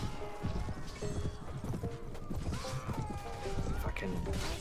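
Horse hooves clop steadily through a mounted battle in Mount & Blade Warband with the Full Invasion 2 mod, mixed with clashing combat noise and game effects under a busy, dense soundscape.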